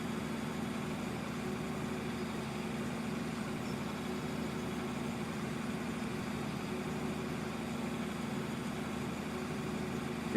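A tractor engine in Farming Simulator 2013 runs steadily at a low idle-like drone, even and moderately quiet for the full stretch, with no voices.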